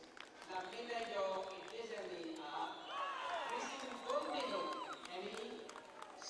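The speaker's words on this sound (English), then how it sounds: "And the crowd goes crazy." Crowd cheering at an athletics track race at the Pacific Mini Games in Vanuatu, a steady roar of voices and shouts lasting throughout, fairly distant and mixed with commentary-like talk.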